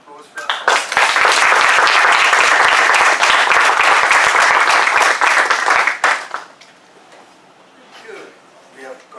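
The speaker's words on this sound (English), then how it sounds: "so another round of applause for" A Toastmasters club breakfast meeting audience bursts into loud, dense applause lasting about five seconds, then it cuts off sharply and a voice briefly speaks in the quieter room.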